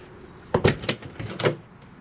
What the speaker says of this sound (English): we'll swing this door open and give it a quick latch.